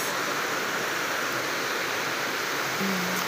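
Miabo Falls pours in a steady, loud, broadband rush of falling water that fills the whole moment without a break.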